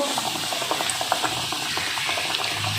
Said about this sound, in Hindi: अब हम इसको फ्राई करने लगे हैं।